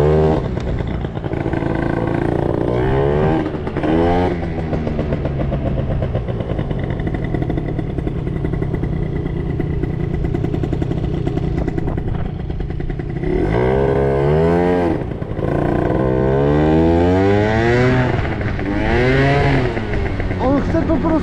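A scooter-based dragster in city streets revs hard again and again, its engine note sweeping up and down in loud, close bursts with a rough clattering edge, easing briefly between the revs.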